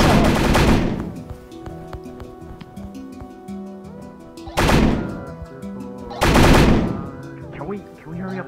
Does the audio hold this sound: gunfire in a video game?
yes